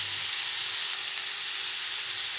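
Raw mango pieces sizzle in hot oil with popped mustard seeds for a mango pachadi, a steady close-up hiss of frying that holds evenly throughout with no voices.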